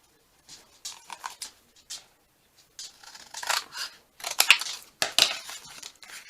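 Scissors snipping paper for a handmade craft tag book, a series of short crisp cuts in irregular clusters, close up and fairly quiet with brief pauses and no speech.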